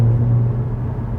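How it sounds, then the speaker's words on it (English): Mercedes-AMG CLA 45 coupé engine in sport mode downshifting under throttle, a steady loud low rumble with a deep droning note heard from inside the cabin, no one speaking. "Now in the sport mode the car shifts down earlier, you maybe heard it as soon as I apply the throttle."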